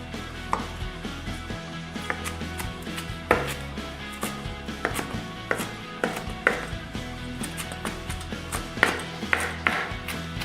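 A knife chops fresh parsley on a board in a steady run of quick, crisp taps, close and moderately loud, with no voices.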